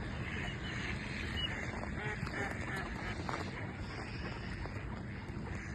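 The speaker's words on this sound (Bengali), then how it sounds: "দেখেন হাঁস আর হাঁস" A big flock of wild ducks quacks continuously, many overlapping calls near and far over a steady low background rumble, with no talk.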